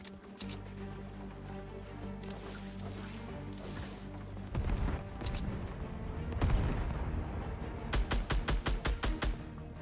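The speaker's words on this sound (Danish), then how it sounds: "han skyder efter mig nu" Rapid gunfire in a Fortnite match, shots aimed at the player, with bursts of loud repeated shots, impacts and crashes, ending in a quick string of evenly spaced rounds over a busy game soundscape.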